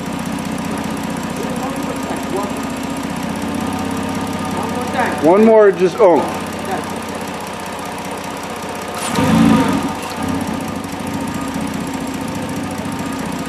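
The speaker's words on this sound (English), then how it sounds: "And that exhaust sounds good." A Ford 3.7 Duratec V6, swapped into a car running a 3.5 PCM, idles steadily with its exhaust note, then gives two short revs, the first sharper and louder. Someone speaks over the idle.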